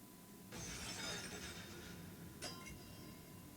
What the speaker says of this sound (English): I heard some glass smash.